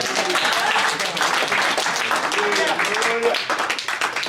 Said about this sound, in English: Clap your hands for Jesus if God is leading you.